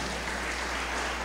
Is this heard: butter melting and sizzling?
no